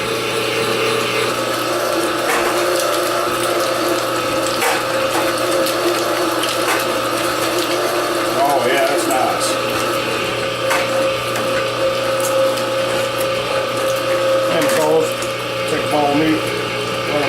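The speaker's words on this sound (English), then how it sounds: "So I'll go ahead and start grinding." An electric meat grinder works through cold meat for andouille sausage, giving off a steady, continuous motor drone with soft mechanical clicks and gear noise, close by and with faint talk at times.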